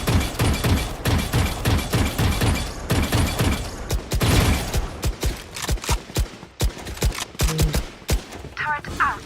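Rapid enemy gunfire in a competitive shooter match, dense bursts of automatic shots cracking close and loud, then thinning to scattered single shots with mechanical clicks near the end.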